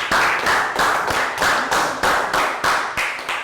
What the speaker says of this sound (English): Everybody, rounds of applause.